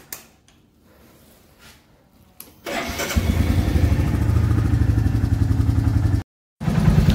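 A motorcycle starts on a foggy, very cold winter morning. Faint clicks and cranking are followed by the engine catching into a loud, steady, close idle, which briefly cuts out and then picks up again.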